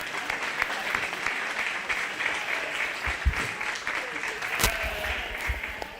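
Steady applause from the crowd at a 4-H/FFA sheep and little lambs show, cheering on the kids who showed, an even roar of clapping with a few sharper claps standing out and faint voices mixed in.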